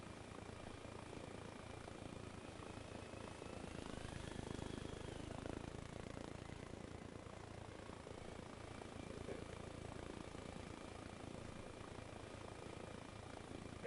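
A helicopter idling in the video game Arma Reforger, a steady, fairly quiet rotor and engine drone that holds at an even level throughout, with no talking.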